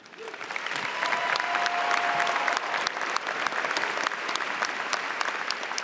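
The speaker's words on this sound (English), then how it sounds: "I want you to acknowledge that and clap for that" A graduate commencement audience applauds, a dense, steady wash of clapping that swells within the first second and holds loud and full throughout.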